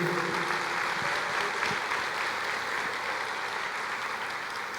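Congregation in a church applauding together, a steady, dense wash of clapping that holds at an even level throughout without anyone speaking.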